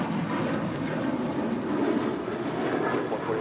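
A United Airlines Boeing 737-800 departing LAX for Las Vegas, a steady, broad jet engine roar at moderate distance that holds constant for a few seconds with no voices.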